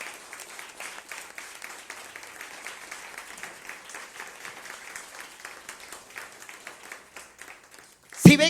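A church congregation applauds during a sermon, a steady wash of many hands clapping at moderate distance for several seconds before a sudden loud bump at the end.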